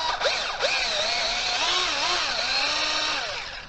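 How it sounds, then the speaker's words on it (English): A power drill bores through 3D printed plastic, a steady whine with rising and falling pitch as the bit bites, close and fairly quiet, stopping near the end with no voices. "Drill's pretty easy because it's only plastic."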